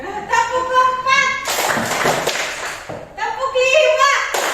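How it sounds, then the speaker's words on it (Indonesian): Children in a classroom clapping along in a counting clap game, bursts of loud, dense clapping alternating with a group chanting in rhythm. "Tepuk satu, tepuk dua, tepuk empat, tepuk keempat,"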